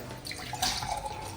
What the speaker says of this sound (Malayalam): എന്നാ ചേച്ചി അതിൽ ഒഴിച്ചു.